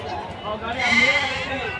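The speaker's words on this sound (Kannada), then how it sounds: "ಎಲ್ಲ ಅಷ್ಟು ಟಗರ್ ಮರಿ ನೋಡ್ರಿ" Sheep and ram lambs at a livestock market in Haveri bleat loudly nearby, with one long wavering call rising above the crowd as people talk in the background.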